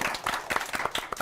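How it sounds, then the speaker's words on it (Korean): A studio audience claps together in steady, dense applause to welcome a guest onto a live business talk show, the claps close and continuous through the short moment. "박수 부탁드리겠습니다."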